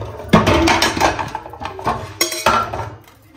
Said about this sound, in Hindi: अभी मैं जो है ना बर्तन वगैरह सब इकट्ठे करती हूँ